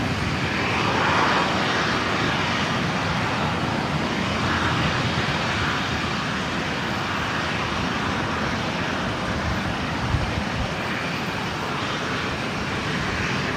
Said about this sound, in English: And looks like it's going to be the Rex Saab next out